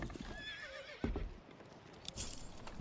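In the video game Manor Lords, a horse whinnies over faint background noise, with a few soft thuds and clip-clop sounds in between.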